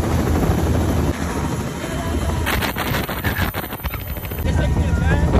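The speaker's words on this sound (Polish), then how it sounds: "To jest ten helikopter." Helicopter rotor thuds and turbine whine fill the air loudly and continuously, a rapid chopping pulse close by, with talk over the noise.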